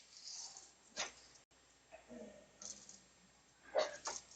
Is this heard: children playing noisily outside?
no